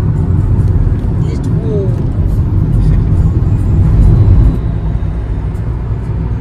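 A car cruises along National Highway 16 from Kolkata toward Digha, with a loud, steady low road and engine rumble heard from inside the car throughout.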